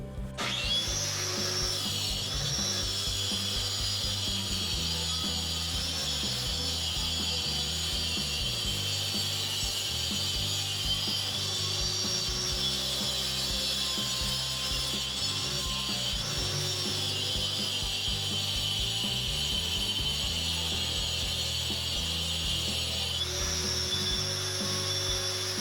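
A wall chaser cuts a groove into a wall in a newly built flat, a loud, continuous high-pitched grinding whine with slight pitch shifts, running steadily and then dipping briefly near the end.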